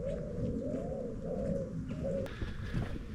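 A pigeon or dove coos softly outdoors in the Cotswold village of Kencot, a faint, repeated low cooing over quiet background ambience.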